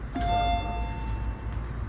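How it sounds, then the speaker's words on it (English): A Morgan hydraulic elevator's hall lantern in a parking garage gives a clear electronic chime with a steady, ringing tone that slowly fades, heard alone over low background hum. "when it closed for a second, it's gonna do a double chime"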